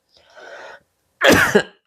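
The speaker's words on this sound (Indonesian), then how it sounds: "Aduh bentar batuk dulu." A man teaching an Arabic grammar lesson gives a soft throat-clearing rasp, then after a short pause a single sharp, loud cough close to the microphone.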